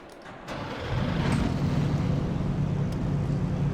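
Race car engines roar together at the start of a race in Assetto Corsa Competizione, quiet at first and then swelling within a second into a steady, loud, dense drone with no talking.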